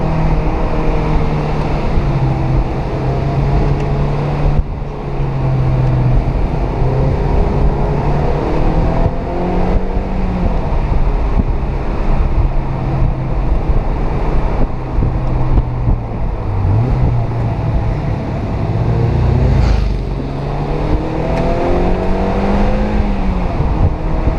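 A Mazda MX-5 NC drives a damp mountain road on the Tail of the Dragon, its engine droning loudly and steadily with the pitch rising and falling through the bends, under constant wind rush.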